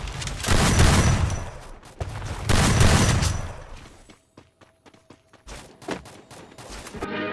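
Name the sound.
gunfire in a video game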